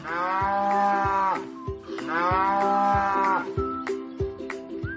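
Cattle at Diverti'Parc, a French animal park that keeps some 30 cow breeds, give two long, loud, close moos one after the other, with lowing continuing faintly at the end and no talk.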